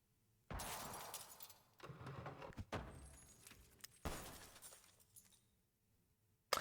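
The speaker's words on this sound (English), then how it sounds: "That was a lot of glass." Glass shatters and debris crashes in repeated loud bursts in the video game The Smoke Room, several separate breaking impacts close up with clattering fragments, then a quieter tail.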